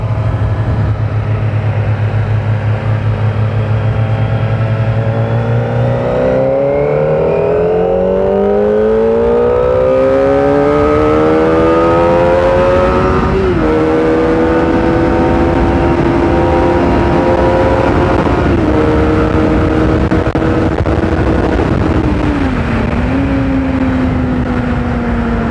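A loud motorcycle engine with a racing exhaust revs up through rising gears, its throaty exhaust tone climbing and settling repeatedly, close and continuous.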